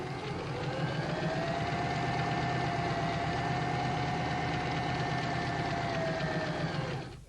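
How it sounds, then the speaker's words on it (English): A 1990 Janome Nouveau sewing machine stitches one side of a buttonhole, its motor humming at a steady pitch with a fast, even needle rhythm throughout, close and alone, slowing at the very end. "start at the top of the buttonhole on pattern selector number 1 and sew down the left side to the length marked"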